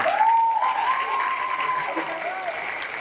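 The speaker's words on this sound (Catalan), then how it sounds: "Un fort aplaudiment per tots els professors i les professores." Graduation ceremony audience applauding the teachers, steady, moderately loud clapping from a large crowd, with a voice or tonal sound drifting over it.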